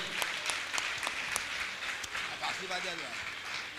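Crowd applause, steady clapping from many hands at a moderate distance, with some background noise, at a Jain monk's religious discourse gathering.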